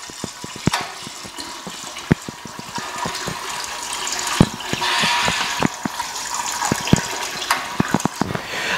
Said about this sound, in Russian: Сейчас дольем водички и все станет на свои места.